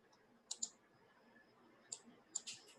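A computer mouse gives a few crisp, close clicks, a quick double click followed by two more spaced clicks, against near silence.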